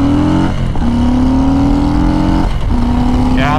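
A Harley-Davidson Low Rider S motorcycle with about 1,000 miles on it, its engine loud and close, revving up in two rising pulls separated by a brief drop in pitch, with a steady rumbling idle underneath.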